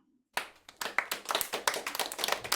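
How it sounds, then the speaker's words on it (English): An audience at a storytelling night bursts into applause after a short silence, many hands clapping steadily and fairly close, with no voices over it. "everyone's clapping over here."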